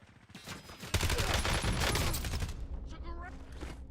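Video game gunfire, a rapid burst of rattling shots at close range that cuts in abruptly and fades after a couple of seconds, with faint game sounds trailing after.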